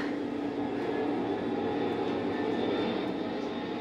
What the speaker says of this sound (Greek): Αεροπλάνα!